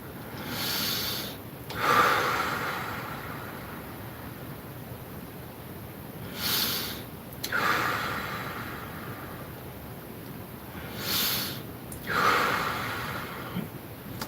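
Slow, deep breathing during a guided grounding meditation, with soft airy inhales and exhales recurring every few seconds, fairly close and quiet, with no talking.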